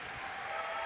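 Crowd applause in a college men's basketball gym, a steady wash of clapping that stays broad and even for the whole moment, moderately loud and without talk over it.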